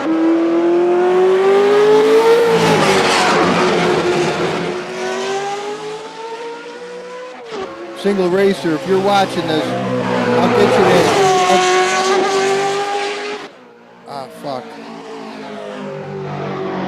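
Engine of a small race car in a racing sim video game revs hard through climbing gears, with tire squeal, skids and sharp cutouts near the end, while someone talks over it briefly.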